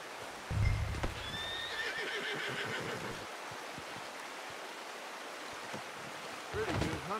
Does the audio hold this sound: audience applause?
no